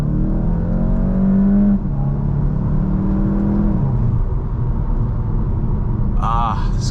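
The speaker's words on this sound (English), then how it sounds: "we're gonna switch it over into sport mode, pop it into manual, and we got second gear. We're going about 25. We're gonna floor it" A 2021 VW Golf GTI SE with a DSG gearbox, in sport mode and manual second gear, floored from about 25 mph; its engine drones loudly with a rising pitch under steady cabin noise, then settles into a lower, even hum.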